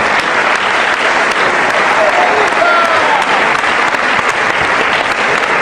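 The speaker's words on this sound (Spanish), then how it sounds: "Un aplauso, una alabanza para el Señor, amén." A church congregation applauding in praise during a Spanish-language sermon, with loud, sustained, dense clapping that fills the whole stretch, joined by faint cheering voices underneath.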